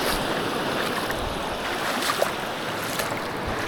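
Cold ocean water washes among kelp on Dale Beach on the Pembrokeshire coast, a steady broad rush of surf mixed with blustery wind noise on the microphone, with no talk.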